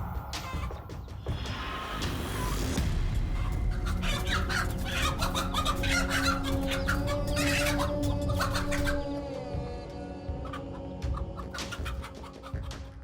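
A mother hen clucks and calls repeatedly while fighting off snakes, with sharp squawks and scratching, and other bird sounds rise and fall close by.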